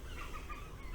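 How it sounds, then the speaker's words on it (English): Seagulls call out over outdoor ambience, a burst of squawking and clucking cries that are fairly faint and mid-distance, mixed with low background rumble and no speech. "The noise of those bloody seagulls."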